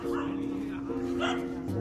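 Dogs bark and yip in the distance in India, mixed with a steady hum and some background voices.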